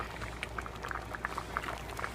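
A pot of smoked ham minestrone with zucchini and kale simmers steadily, with soft continuous bubbling and small pops over a low hum, no talking.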